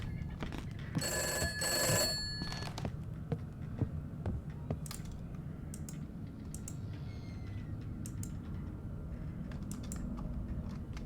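Telephone ringing in the horror game Summer of '58: a loud bell trill at the start fades away, leaving scattered clicks and soft knocks over a constant low rumble.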